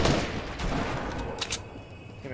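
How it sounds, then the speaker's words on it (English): Video game gunfire: a dense burst of rapid shots at the start that thins into scattered cracks and a couple of sharp nearer shots, loud and continuous throughout. "I'm getting shot from my left."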